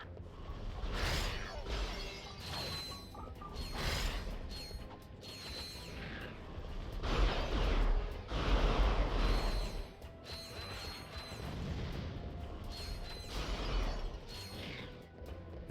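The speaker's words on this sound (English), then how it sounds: "Very satisfying lava gun." Lava gun firing in a Ratchet & Clank game, a steady stream of crackling mechanical bursts and clanks with sharp metallic pings, continuous and busy throughout, no talking.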